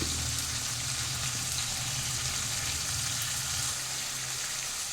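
Shallots and garlic frying in a pan of oil for a South Indian kara kuzhambu, giving a steady, close, bright sizzle that runs unbroken from start to finish, with no voices.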